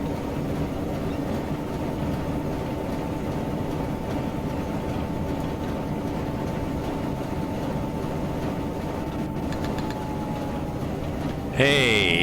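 Train running in Train Simulator 2020 on the Columbia Valley Pacific Railway, a steady loud engine rumble with a sustained tone, rail noise continuing throughout and a brief higher sound near the end.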